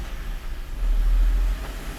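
A VW Polo fitted with a water cooler pulls away in first gear, its engine giving a close, deep rumble that swells in the middle of the short burst and then eases, with no talking.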